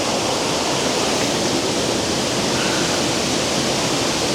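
Water rushes loudly and without a break at Lower Campsie Falls, heard up close from within the stream as a full, dense roar.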